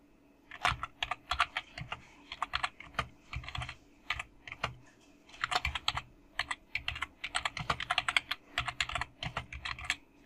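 Fingers type text on a Chromebook keyboard in quick bursts of close, crisp key clicks, pausing briefly between runs, with no talking over the tapping.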